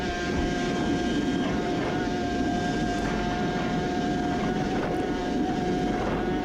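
A Suzuki RG500 racing motorcycle engine held at full throttle on a track, heard onboard as a loud, continuous high-revving drone with steady whining tones, constant and unbroken throughout.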